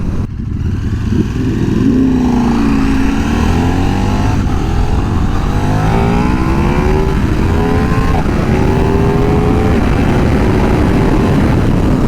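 KTM 1390 Super Duke R EVO motorcycle, a 2024 model, accelerating hard into a wheelie: a loud, close engine roar that climbs steadily in pitch through the gears, with wind rush throughout.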